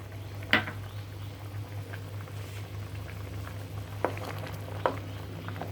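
Shahi paneer gravy with whipped cream is gently stirred in a pan over a steady simmering bubble and hum, with a few soft scraping taps of the spoon spaced apart.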